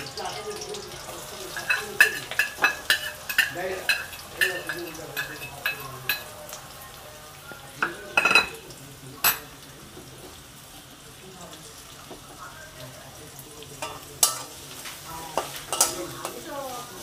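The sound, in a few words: green chillies and onion frying and being stirred in a wok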